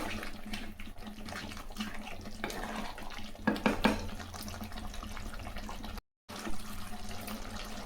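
Water pours and splashes into a metal pot of country chicken curry with masala, a noisy gurgling stretch with clinks of cookware around it, fairly close and without talk.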